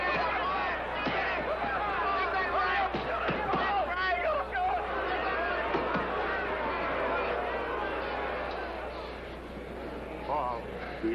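Crowd at a 1952 boxing match, a loud continuous roar of yelling and shouting voices with sharp bursts and thuds throughout, sustained for the whole stretch with no letup.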